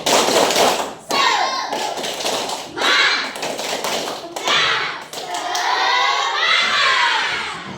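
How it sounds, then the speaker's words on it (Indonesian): Schoolchildren in an Indonesian primary school classroom perform the tepuk semangat clapping chant together, with bursts of rhythmic claps and thumps mixed with loud shouting voices, fairly close and lively. "Tepuk semangatnya ya. Tepuk semangat."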